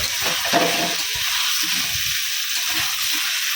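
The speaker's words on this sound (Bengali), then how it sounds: "তেল গরম হয়ে গেছে এখন সবজিগুলোকে আগে ভেজে নেব দেখো সবজি ভেজে নিচ্ছি" Mixed vegetables frying in hot oil before going into khichuri, giving a loud, steady close-up sizzle with a few louder bursts near the start and no talking.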